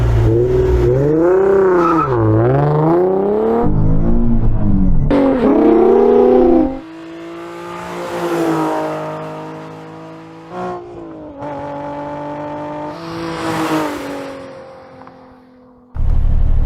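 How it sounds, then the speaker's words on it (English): A Nissan Z sports car with a manual gearbox launches down a standing quarter mile, its engine revving hard and climbing through several gears with brief dips at each shift, loud and close throughout. "give Bob one final chance to launch his car to see how quick it really is"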